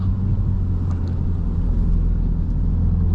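A 2025 MINI JCW Hatchback, front-wheel drive, is driven through corners, with a steady low engine and road rumble heard from inside the cabin and no one speaking.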